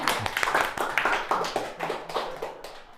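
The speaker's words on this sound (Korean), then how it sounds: "박수!" Classmates in a school chemistry class break into a brief round of clapping, a quick burst of overlapping hand claps with some voices mixed in, fairly close and lively.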